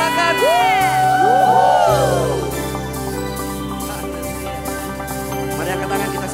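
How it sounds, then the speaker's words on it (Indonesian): A church congregation cheers and shouts hallelujah together in loud, sustained crowd whooping, with a worship leader's voice and music carrying over the continuous roar. "Sekali lagi sorakan haleluya"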